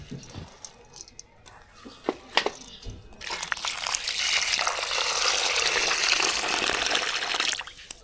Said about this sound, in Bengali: এবার দিয়ে দেবো মুগের ডাল, তাও ভাইজে রাখা হয়েছে, এখন ধুয়ে ফেলাবো ভালো করে